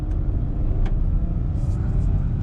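A Hyundai Venue iMT car drives along with a steady, loud low engine rumble and road noise, continuous and close throughout.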